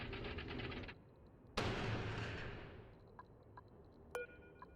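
A rocket lands in Oxygen Not Included: a sudden loud rushing roar that fades slowly over a couple of seconds, followed by small scattered clicks and a brief sharp metallic burst near the end.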